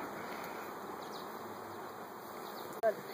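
A steady, even buzzing of many bees fills the air, continuous and moderately close, with a brief knock near the end.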